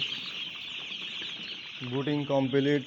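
A dense, continuous chorus of high-pitched cheeps from broiler chicks fills the space, joined near the end by a low voice talking.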